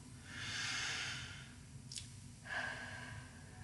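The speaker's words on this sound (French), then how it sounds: "Alors, prenons une profonde respiration." A deep, slow breath drawn in and let out, followed by a short sniff and a second audible exhale, close and alone with no talk.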